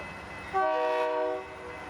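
A Union Pacific southbound trash train throttles up in the open, its locomotive engines building into a loud, steady drone with a bright sustained horn-like tone in the middle, no voices present.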